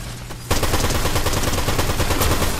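Loud, close video game gunfire: a brief lead-in, then rapid automatic bursts firing continuously, dense and unbroken.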